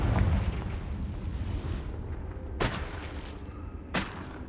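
Confringo blasting spells exploding in the Hogwarts Legacy video game: two sharp, bright blasts come a second or so apart over a low rumbling game background, moderately loud.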